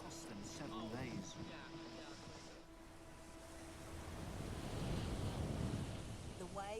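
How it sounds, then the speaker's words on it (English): Huge ocean waves at sea around a racing sailboat, a rough, rushing wash of surf and wind that swells louder toward the end, with faint voices mixed in. "The waves are just huge."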